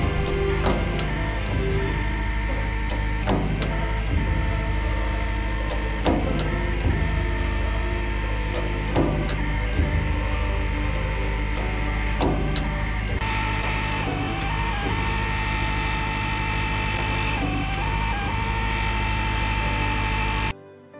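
A torque wrench machine does the final tightening of nut bolts on a railway overbridge girder at the Mahe bypass, giving a steady loud mechanical drone with repeated clicking strokes every few seconds, continuous throughout.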